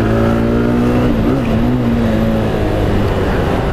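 Bajaj Discover 125ST motorcycle engine while riding on a test ride, a steady loud droning hum with a brief pitch wobble as the throttle shifts, close and continuous with wind noise and no talking.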